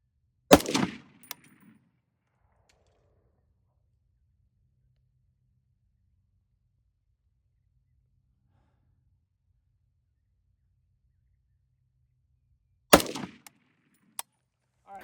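Gunshots are fired while zeroing a red dot sight at a range, two sharp loud reports about twelve seconds apart, each with a brief echo, separated by near silence.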